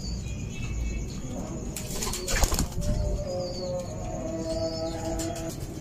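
Pigeons in a loft, heard as soft coos and fluttering with a brief burst of wing flapping near the middle, over steady low background noise.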